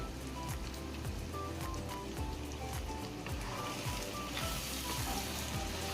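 Green chillies fry in oil with a soft, continuous sizzle and crackle, faint and low in level, steady throughout with no talking.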